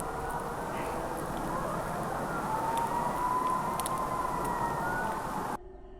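A distant siren wails with a slowly rising and falling tone over steady background noise at night in the woods, faint and far off, cutting out abruptly near the end.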